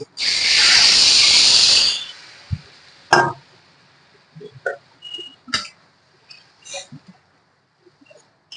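Water poured into a hot pan of Bengali aair fish curry bursts into a loud hissing sizzle for about two seconds, then dies back to faint bubbling with scattered small pops and clinks.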